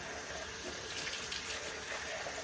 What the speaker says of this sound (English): Pour water to the opening.